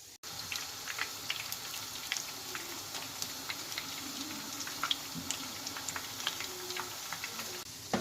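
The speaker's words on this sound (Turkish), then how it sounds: "kızarana kadar kızartıyorum" Chicken frying in hot oil, a continuous close hiss studded with dense crackling pops and sputters.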